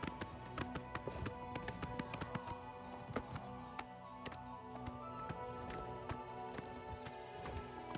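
Galloping hoofbeats from a horse ridden in the video game Oblivion Remastered: brisk, evenly spaced clip-clop strikes running throughout over a steady background hum, no voices.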